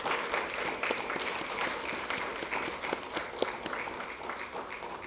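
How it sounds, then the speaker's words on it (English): Audience at a high school academic hall of fame induction ceremony giving a sustained round of applause for inductees, dense steady clapping from a sizable crowd, moderately loud and continuous throughout. "Can I ask for everyone to just give one more round of applause for all of our inductees?"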